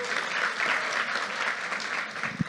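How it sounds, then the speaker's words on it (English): A dense, steady round of applause from an audience at a business event on women's leadership and gender equity in the workplace fills the room at an even level throughout. "so another round of applause"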